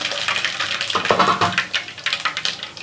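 Mustard seeds and cumin crackle and pop in hot oil in a pan for a tomato gojju tempering, with rapid, close, irregular spitting over a constant sizzle.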